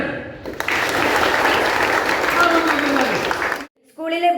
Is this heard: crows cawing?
no